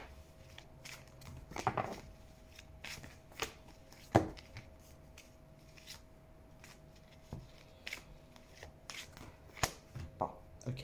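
Tarot cards being shuffled by hand, soft, close riffling and tapping bursts scattered irregularly, with a faint steady hum underneath.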